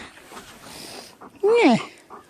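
A dog outdoors in the snow gives a brief, loud, high whine or yelp between soft background sounds, while a person talks nearby.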